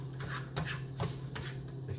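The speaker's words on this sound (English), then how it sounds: "Mix that a little bit." Food being stirred and mixed in a pan, with a steady low hum underneath and a few soft scraping strokes spread across the two seconds.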